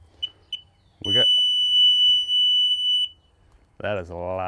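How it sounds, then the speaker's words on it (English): A SeaDoo GTI display gives key-on warning beeps: two short chirps, then a long, loud, steady high beep lasting about two seconds, followed by a voice speaking. "This is one of the old ones that beeps at you if you leave the key on."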